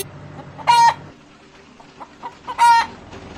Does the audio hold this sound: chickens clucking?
yes